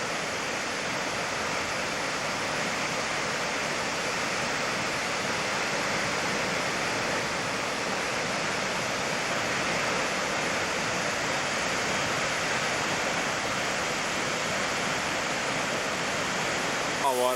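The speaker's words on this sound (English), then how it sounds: "Akaka Falls is full of water" Akaka Falls in Hawaii, a full waterfall plunging into a steaming pool, roars as a steady, loud broadband rush that stays unbroken throughout.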